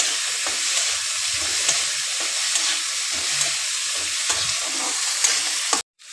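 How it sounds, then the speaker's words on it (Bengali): Spice masala frying hard in a pan for a Sunday lunch dish, a loud continuous sizzle with scraping stirs and faint taps of the utensil, ending abruptly. "এবারে মশলাটা হয়ে গেছে কষানো"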